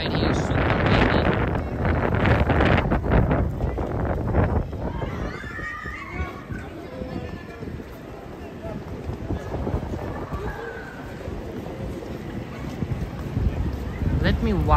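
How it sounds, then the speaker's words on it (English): Strong wind blows in Manhattan near the Vessel, buffeting the microphone hard at first and then easing into a steady rushing gust, with faint voices mixed in. "It's super windy right here"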